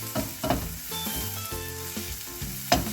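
Spice powders sizzle steadily as they are stirred and roasted in a pan for Kerala jackfruit puzhukku, with sharp scraping strokes of a spoon at intervals; no one talks.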